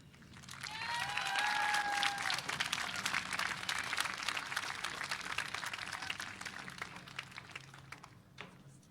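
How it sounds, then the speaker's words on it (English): Graduation ceremony crowd applauding its speakers with sustained, dense clapping that swells early, carries a couple of whistles, then slowly thins and tapers off. "Let's give a round of applause to all our speakers."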